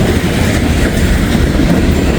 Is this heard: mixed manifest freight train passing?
yes